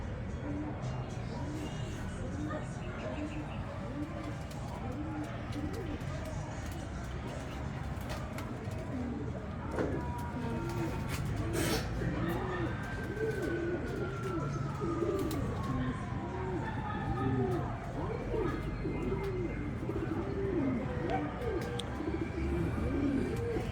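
A flock of pigeons arrives and keeps up steady, rhythmic cooing throughout, close by and fairly loud, with wingbeats and outdoor background noise and a sweeping whistle-like tone partway through.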